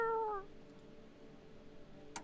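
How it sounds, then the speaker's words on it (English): A cat gives a single clear meow at the start, close and fairly loud, followed by quiet room tone and a brief clatter near the end. "Hello, cat."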